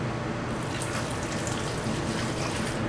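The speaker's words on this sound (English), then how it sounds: "let's start putting water in it" A gallon of water is poured over a motherboard with an older Athlon processor, giving a loud, steady rushing splash that continues unbroken throughout.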